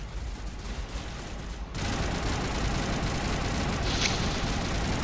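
Sustained, loud assault rifle fire from the Mass Effect Legendary Edition video game, a dense continuous rattle of rapid shots that jumps in intensity partway through and stays heavy to the end, with no talking.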